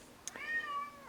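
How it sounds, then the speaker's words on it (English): A house cat gives one drawn-out, wavering angry meow close by, preceded by a brief higher squeak, with no talking. "Sorry, my cat is angry today."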